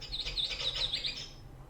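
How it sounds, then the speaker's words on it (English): A small bird chirps in a quick run of high, bright tweets, faint and somewhat distant, heard alone over a low steady background hum. "Hang on, there's a bird."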